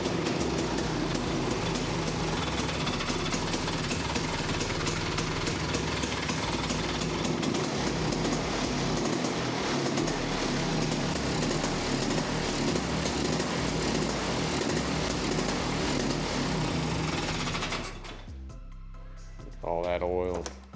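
A 400cc two-stroke quad engine runs loudly and steadily on throttle for most of the stretch, then cuts out abruptly and dies, leaving brief quieter sounds afterward.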